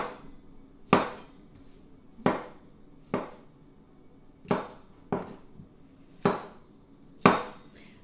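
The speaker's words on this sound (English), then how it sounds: "the mushrooms can just be sliced right about like this" A knife slices through whole mushrooms on a cutting board for chicken à la king. Seven crisp, distinct thuds on the board come at an uneven, unhurried pace, close and clear with no talking.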